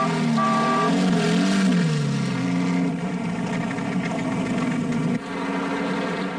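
Rally car engines on a mountain pass during the 1958 Coupe des Alpes, including a Standard driven flat out, drone loudly and continuously, their pitch rising and falling and then dropping off sharply near the end, with no talking.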